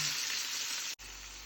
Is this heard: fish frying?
yes